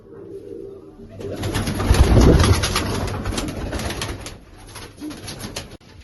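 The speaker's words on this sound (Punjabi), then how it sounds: "ਕਾਕੇ ਵਾਲੇ ਮੇਨ ਕਬੂਤਰ ਆ ਇਹ ਬਹੁਤ ਉੜਦੇ ਆ" Domestic flying pigeons coo close by, a layered series of soft throaty calls over a busy background of other birds, with no speech.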